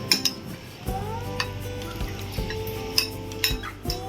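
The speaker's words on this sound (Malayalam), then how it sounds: "ചതച്ചെടുത്ത തേങ്ങ നല്ലതുപോലെ ഇളക്കിയതിന് ശേഷം കുക്കുംബറിലേക്ക് ചേർക്കുക അതിനുശേഷം ഇത് നന്നായി യോജിപ്പിക്കുക" A spoon mixes crushed coconut into a cucumber salad in a bowl, giving repeated clinks and scrapes against the dish at an uneven rhythm, close up and alone.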